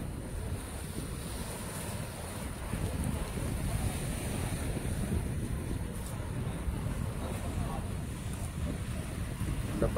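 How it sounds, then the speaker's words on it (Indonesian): Steady surf of the Red Sea rolls and washes against shore rocks, a continuous low rumble of water with breezy wind noise and no distinct individual crashes. "ombak-ombak memukul batu-batu di tepian"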